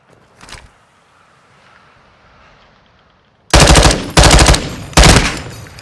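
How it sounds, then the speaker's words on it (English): Loud close bursts of automatic gunfire in Warzone 2, three rapid volleys in quick succession after a quiet stretch with one faint distant crack. "Estão atirando em mim."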